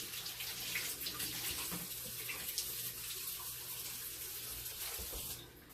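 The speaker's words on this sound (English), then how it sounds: "if you've got fresh asparagus, you're definitely going to want to wash them" Fresh asparagus rinsed under a running kitchen tap, a steady moderate stream of water splashing continuously, with no voices.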